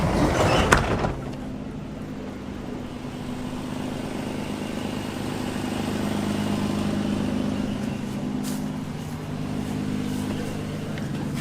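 Car on a test ride after a camshaft position sensor replacement, a steady low engine drone and road rumble heard from inside the cabin after a brief knock at the start, with no talking.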